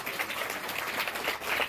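An audience at a government high school ceremony in Birnpur applauds, a soft, steady patter of many hands clapping at a distance, continuous and fairly faint.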